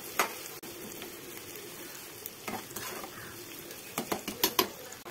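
Mango pieces frying in oil for pickle, with a soft steady sizzle and a spoon scraping and stirring in the pan, the stirring strokes growing quicker and more frequent toward the end.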